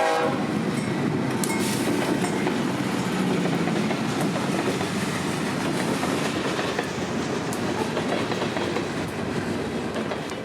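A Brooksville Local freight train rolls past the busy State Road 54 highway crossing at night, a loud, continuous rumble with wheel clatter and a brief horn, steady throughout.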